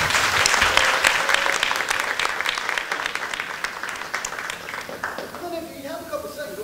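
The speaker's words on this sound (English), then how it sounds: "Another round of applause." Meeting audience applause, a steady wash of many hands clapping that tapers off toward the end as a voice begins speaking.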